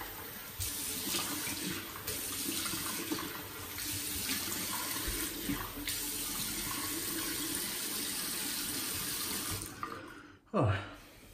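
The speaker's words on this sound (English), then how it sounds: "let me wash this off my face" Water runs steadily from a tap in a hiss, then stops, followed by a short splashing sound close by.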